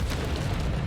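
A loud Bombarder spell explosion from Hogwarts Legacy, a single dense booming blast with a deep low rumble that fills the whole short moment, with no talking over it.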